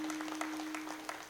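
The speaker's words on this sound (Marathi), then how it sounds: "एकदा जोरदार टाळ्या वाजवा." A kirtan audience claps together in a steady, even patter, faint and somewhat distant, with a constant electrical hum running underneath.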